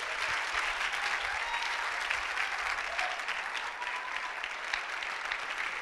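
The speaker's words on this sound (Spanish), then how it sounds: "denme un aplauso a nuestros actores" Sustained applause from an audience at a church youth gathering, honoring actors after a Bible drama about David, son of Jesse; dense, steady clapping fills the whole stretch at even loudness with no pauses.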